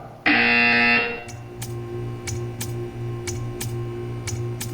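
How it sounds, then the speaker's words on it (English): A loud harsh buzzer in Portal 2's Extended Relaxation Chamber blares for about a second, followed by steady ticking and a low pulsing hum. "You will hear a buzzer. When you hear the buzzer, stare at the art."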